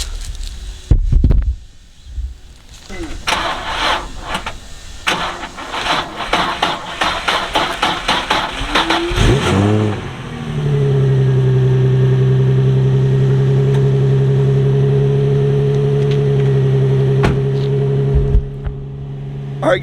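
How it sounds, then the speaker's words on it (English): Cold start of a Nissan 350Z engine: a few seconds of starter cranking, then the engine catches with a loud flare and settles into a steady, close idle that runs to the end. "So here's hopefully cold start number 2 on the 350Z."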